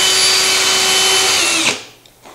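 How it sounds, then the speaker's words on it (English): A drill spinning a 1/16 inch bit through wood for a wooden hinge ring box, a loud steady high whine held close for over a second before spinning down and cutting off. "with that spinning, that gives me a perfectly centered hole, 1/16th inch in diameter"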